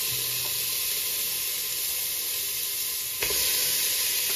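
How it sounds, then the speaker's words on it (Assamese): Pork is poured into a hot pan, and the steady sizzle and hiss jump louder at once as the meat lands, then keep frying hard. "দিয়া গাহৰিটো ঢালি দিয়া"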